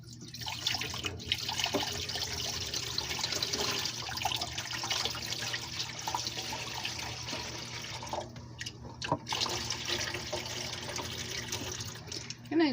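Foraged fiddlehead ferns are rinsed under a running tap, a steady, fairly loud rush of water splashing into a sink that continues for over twelve seconds with brief dips.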